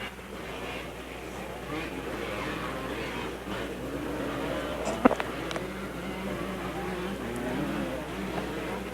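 A 250cc off-road racing motorcycle, number 82, leading the sportsman division at a 1987 Raven Raceway event, its engine a steady mid-distance drone under a loud announcer's voice.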